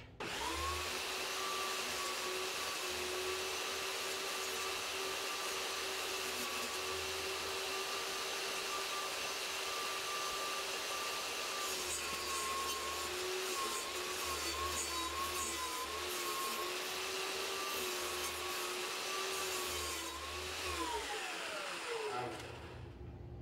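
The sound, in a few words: table saw cutting a board for a craps table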